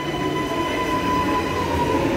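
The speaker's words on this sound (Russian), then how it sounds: "Так, идут, трамвай идет." A metro train rolls steadily along seamless rails at a station platform, a continuous loud rumble with a sustained high wheel whine and no speech.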